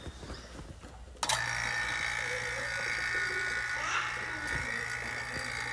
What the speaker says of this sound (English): now we're going to come turn the pump on